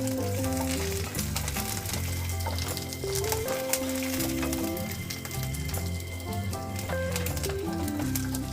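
Garlic cloves and curry leaves fry in hot oil, a continuous bright sizzle heard under steady background music with tonal notes and no speech.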